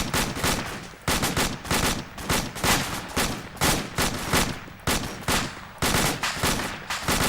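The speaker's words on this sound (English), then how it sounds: "Return fire, suppress those targets." Rapid bursts of gunfire from a fireteam drill, loud and sustained, with repeated volleys and brief pauses between strings of shots.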